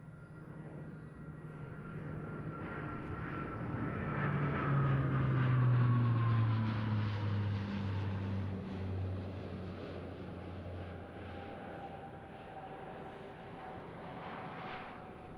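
A C-27J Spartan twin-turboprop airlifter flying an aerobatic display at RIAT 2024, its engine drone swelling as it passes, a falling whine drifting down, then fading to a distant steady hum.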